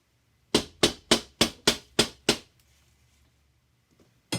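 Seven quick, sharp knocks in an even rhythm, struck on a basement window from outside, followed by a pause and one more single tap, close and clear against near silence.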